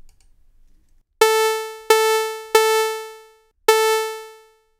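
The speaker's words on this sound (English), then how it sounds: "the type with the buzziest sound or the most harmonic content to it is the sawtooth wave" Four bright, buzzy sawtooth-wave synth notes from a ToneJS oscillator ring out one after another, each fading away; the last comes after a short pause.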